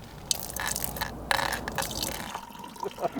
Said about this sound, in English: Mix 100 millilitres of cold water